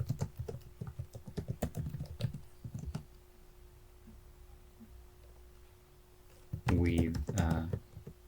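A GitHub repository description is typed on a computer keyboard in bursts of close key clicks, then a quiet pause with a steady hum. A brief voice speaks near the end.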